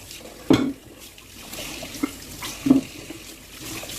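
Water splashes and trickles from a tap in short bursts over raw chicken being washed, with a couple of louder splashes, fairly close and without talk.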